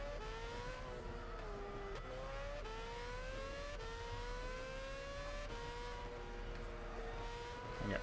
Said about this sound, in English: Oh, a McLaren F1 GT.